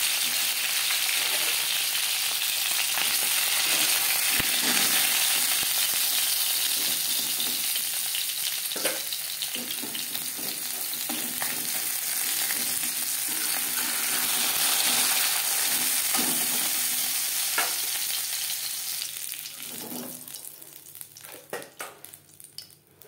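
Fresh oil sizzles loudly and steadily in a wok just used to fry silver carp, a dense continuous hiss with faint scraping, easing and thinning out toward the end.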